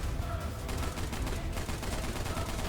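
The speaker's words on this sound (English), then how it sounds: "all of that, while also shooting some Dark Souls dude in the face" Video-game gunfire aimed at an enemy, a dense, continuous stream of rapid shots and impacts, loud and close throughout.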